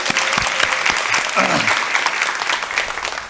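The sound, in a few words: audience applause welcoming a pastor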